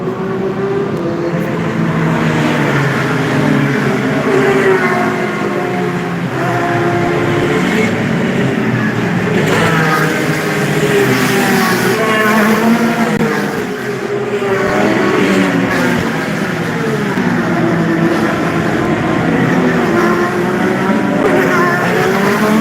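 Race cars at the Honda Indy Toronto street circuit roar loudly and continuously, with engine notes rising and falling as they pass near alongside the safety vehicle during a full course yellow.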